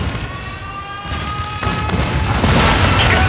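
Cannon fire from a creature battle near a city in the Spore video game: a few dull booms rise out of a busy game soundscape, growing louder and denser toward the end.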